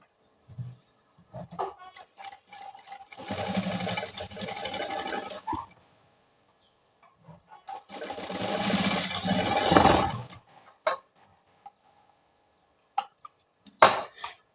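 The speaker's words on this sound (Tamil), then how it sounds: "இப்போ நான் வந்து இது மேலேயே வந்து இன்னொரு தையலும் வந்து போட்டு விட்டுக்கிறேன்" A home tailoring sewing machine stitches a rubber hair band in two bursts of rapid mechanical whirring, each a few seconds long, separated by quiet pauses with small clicks and handling knocks.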